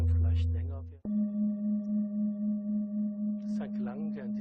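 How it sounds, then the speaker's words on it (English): A singing bowl rings with a sustained pure tone that pulses gently in a slow, even wobble, close and steady, with soft speech before and after the ring. "Maybe you will notice that the sounds of the singing bowl change."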